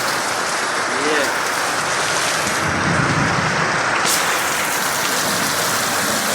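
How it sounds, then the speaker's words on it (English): Heavy rain pours steadily and loudly in Jamaica, a dense constant roar of drops on surfaces, close and unbroken throughout, with faint low rumbles that may be thunder. "watch the rain, watch the weather"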